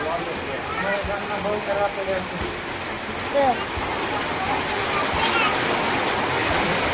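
Heavy rain with hail pelting down in a Gujarat village, a steady broadband roar of falling water and ice close by, with people talking over it throughout.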